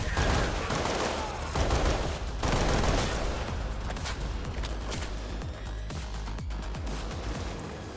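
Sustained automatic gunfire in the heist shooter Payday 3, a continuous dense fusillade of rapid shots at moderate loudness with occasional heavier impacts and crashes throughout.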